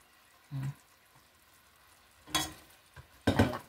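Squid for adobong pusit dropped into a hot pan, giving a few separate bursts of sizzling and stirring, with a louder, denser fry near the end. No voices are heard.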